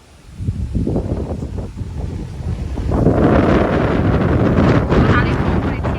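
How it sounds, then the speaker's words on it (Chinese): Strong wind roars outdoors and buffets the microphone, starting as gusty rumbling and swelling into a loud, sustained rush in the second half, with a voice faintly mixed in. "老三，吹大风了。"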